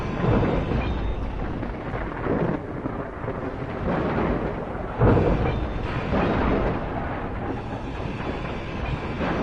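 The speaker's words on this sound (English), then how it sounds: "It is a radiation storm." Radiation storm in Escape from Pertam, a steady heavy rumble of thunder and wind with a louder crack of thunder partway through, no voices.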